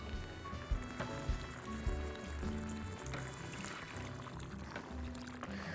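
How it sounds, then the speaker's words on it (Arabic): A cup of hot water poured into a cooking pot, a soft continuous pouring splash lasting several seconds, fairly quiet with a few clinks of kitchen ware. "يا امل، ندي بقى كوبايه ميه سخنه"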